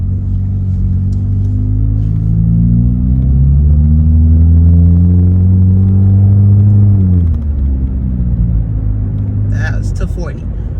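A 2017 ninth-generation Honda Accord with a muffler delete accelerates from a stop to 40, its engine note rising loud and raspy through gears, then settling to a lower drone, with a voice briefly heard at the end.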